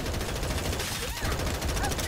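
Rapid gunfire bursts from the Farlight 84 shooter video game run steadily through the clip, dense and continuous, while a player talks over it.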